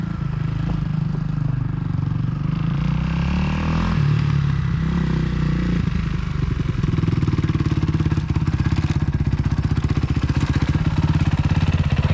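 A dirt bike engine runs continuously with a loud, rough, clattering drone, without a clear stall or cutoff.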